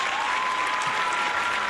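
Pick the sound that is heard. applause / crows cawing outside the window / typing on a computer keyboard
applause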